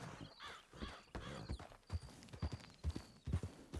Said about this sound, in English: I just saw someone riding a horse very quickly.